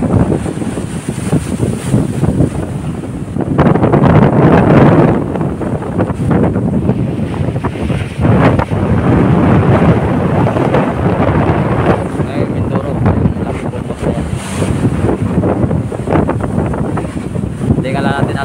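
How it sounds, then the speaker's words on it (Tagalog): Strong wind roars and buffets the microphone while sea waves churn and crash nearby off Mindoro, a loud steady rush with voices faintly underneath. "Alam na namin dito yung lakas ng alon saka yung hangin."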